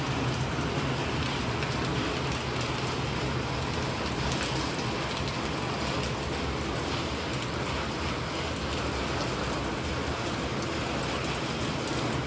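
Light rain in small drops falls in Manali, a steady, even hiss of drops that holds unbroken throughout with no voices.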